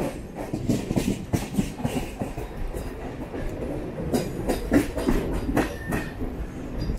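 A Mumbai suburban EMU train runs on the harbour line, heard from inside as a steady rumble with rhythmic clickety-clack wheel beats passing over rail joints.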